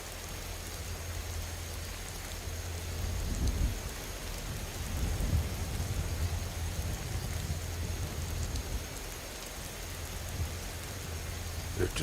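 Steady rain with low rumbles of thunder in the video game Skyrim, a continuous hiss with swelling rolls around the middle, a voice briefly talking in places.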